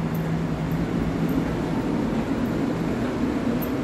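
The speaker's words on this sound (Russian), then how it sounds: "И вот трамвайчик уже уезжает." A grey Dubai tram pulling away from a stop makes a steady, moderately faint rolling hum and rumble with a low mechanical tone running underneath, heard on its own without talk.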